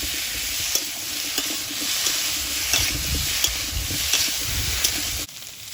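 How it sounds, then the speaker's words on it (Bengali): Pumpkin and potato frying with spices in a pan for a river crab curry, a loud continuous sizzle with rhythmic stirring scrapes of a utensil, close up and with no talk. "কুমড়ো আর আলুটা একটু ভাজা ভাজা হয়েছে, আর এই মশলাটা দিয়ে ভাজা ভাজা হতে হতে তরকারিটা আরো একটু ভাজা হবে।"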